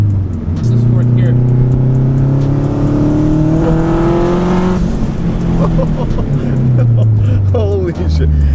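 A turbocharged K20-swapped 1996 Honda Civic hatchback revs hard through fourth gear, its engine note climbing loud and close for several seconds before a shift and another pull, with excited voices over it.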